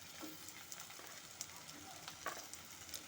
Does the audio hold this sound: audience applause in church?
no